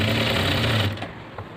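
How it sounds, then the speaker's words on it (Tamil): Sewing machine stitching chudidhar fabric, a steady, close, rapid mechanical whir for about a second before it slows and stops. "ஸோ ரெண்டுத்தையும் அட்டாச் பண்ணி ஸ்டிச் பண்ணிவிடுங்க"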